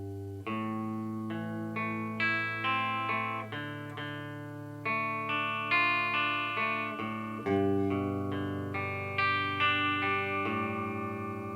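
An electric guitar strums chords through effects, with sustained ringing chords changing every couple of seconds, played alone.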